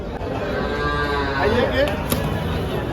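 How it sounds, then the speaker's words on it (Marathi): Cows at a busy cattle market: a low moo rises over a continuous din of crowd noise and chatter, with people talking throughout. "आपलं बोरपूर मांडळचे व्यापारी त्यांनी आज तीन गाय आणलेली आहे बाजारामध्ये"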